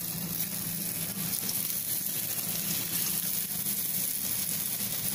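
Boondi batter dropped into hot oil in a pan sizzles and fries steadily, a continuous close, even crackling hiss with no voices.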